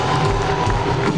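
Crowd cheering at a concert at the WV State Fair, a dense, steady roar of voices filling the whole short stretch with no break.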